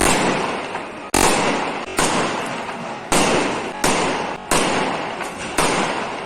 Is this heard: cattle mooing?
no